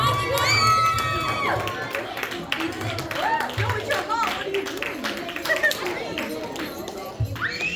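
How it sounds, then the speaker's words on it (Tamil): Children and an audience cheer and shout at a Tamil school annual day event, a loud, continuous crowd of excited young voices with scattered clapping, a few voices calling out over the din. "குட்டி பசங்க அவங்க டீச்சர் சத்தம் போடுங்க."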